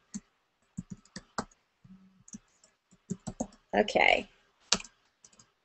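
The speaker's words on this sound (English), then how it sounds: "Let me type it in here on." Rapid keystrokes on a computer keyboard in bursts of clicks, close and fairly loud, with a stretch of rustling noise and a brief spoken word among them.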